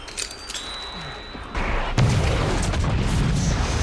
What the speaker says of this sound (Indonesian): Dan boom, ledakan besar pun terjadi.